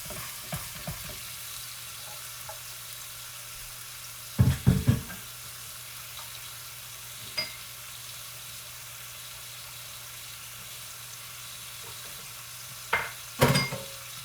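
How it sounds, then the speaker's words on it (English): Steady, quiet sizzle of pork tenderloin browning in a frying pan, broken by a few brief clanks and scrapes of utensils. "you want it to sizzle like that"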